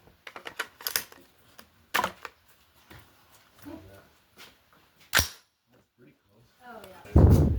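Rifle shots at the Shoshone County rifle range while zeroing an optic at 50 yards: a few sharp, moderately loud reports stand apart from fainter scattered clicks and handling noise, ending in a louder burst.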